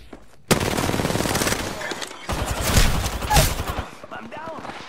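Video game gunfire aimed at the player: a burst of rapid automatic fire that starts abruptly and rattles on densely and loudly, then further volleys and scattered shots, with game sounds mixed in.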